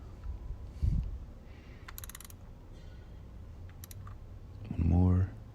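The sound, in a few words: ratchet wrench torquing BMW E30 oil drain plug, 17mm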